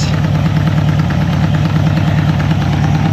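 A Honda CB350F motorcycle engine idles steadily just after starting, a continuous low, even mechanical rumble that stays close and unchanging throughout, with no voices over it.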